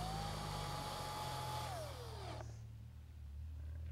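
A power drill drives a self-tapping screw into a chicken coop lid, a steady whining motor that bogs down in pitch as the screw seats, then cuts off, leaving low background hum.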